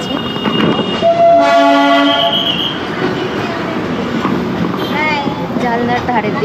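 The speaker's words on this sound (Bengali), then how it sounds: "একদম ঠিকঠাক টাইমে আমাদের ট্রেন ছেড়ে দিয়েছে।" Darjeeling Himalayan Railway toy train pulling away on time: steady rolling rumble and rattle of carriages with a long sustained horn sounding early on, close by, while people talk in the background.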